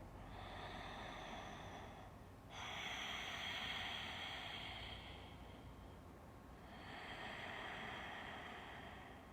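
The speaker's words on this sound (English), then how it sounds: "Keep your breath strong so you add oxygen to that intention. We'll take 3 more breaths here." Deep, slow yoga breaths taken through the nose in a quiet room, with long hissing inhales and exhales rising and fading in a steady cycle, close and soft, without any speech.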